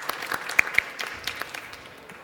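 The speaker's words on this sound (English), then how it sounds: "I'd like you to join me in a round of applause for that fantastic team" Quiet, scattered clapping from an audience applauding a team at a conference session, a few sharper claps standing out early before it thins and fades.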